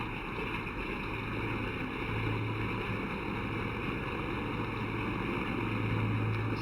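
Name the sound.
flying boat with twin radial engines taking off across a bay, from a video game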